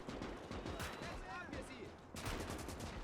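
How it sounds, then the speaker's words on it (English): Mortar and gunfire crash during a WW2 river-crossing battle in the game Gates of Hell, with sharp repeated blasts in quick bursts, a louder burst near the end, and a voice partly heard beneath. "Looks like our mortar is starting to fire."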